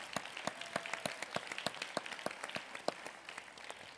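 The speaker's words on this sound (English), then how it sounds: "let's give him a round of applause" A small group at a panel event claps in a sparse, fairly even rhythm, with each clap distinct rather than blending into a wash, moderately close and not loud.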